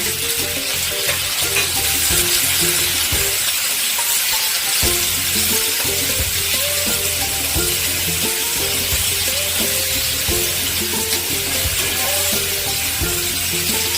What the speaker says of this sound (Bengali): পেঁয়াজ আর ক্যাপসিকামগুলো ভাজা হয়ে গেছে